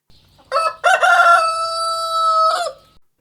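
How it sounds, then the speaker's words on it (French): A rooster crows once loudly and close, with a short lead-in note followed by a long sustained cock-a-doodle-doo call that fades out, heard alone without other sounds. "un coq chanta"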